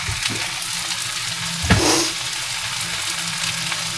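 Hilsa fish pieces frying in a pan, a steady close sizzle with a brief louder hiss and clatter partway through as the fish is stirred or moved.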